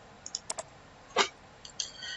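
A computer mouse clicks on a login button of a university academic portal, giving a few sharp, close clicks with a slightly louder one in the middle, in a quiet room without speech.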